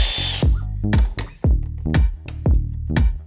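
A cordless power driver fitted with a 10mm socket runs on bolts at the front bumper of a Mercedes-Benz W212 E63 AMG. It gives repeated short, loud whirring bursts with brief ratcheting gaps, close and without talk.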